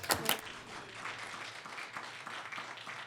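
A small crowd applauds an award recipient at a borough council meeting, with steady, moderate clapping that carries on throughout, heard from a little distance indoors.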